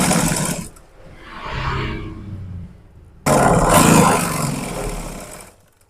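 A sewing machine stitches a seam in churidar trousers, running in two loud, steady bursts separated by a quieter pause, close and mechanical.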